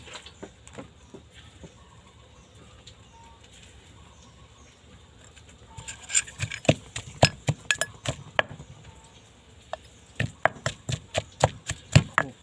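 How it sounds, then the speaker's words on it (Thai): Shallots being pounded in a mortar with a pestle for a Thai curry paste with pepper and shrimp paste, giving sharp irregular knocks in clusters, faint at first, then louder and quicker. "ตอนนี้ก็จะเอาหอมแดงใส่ โขก"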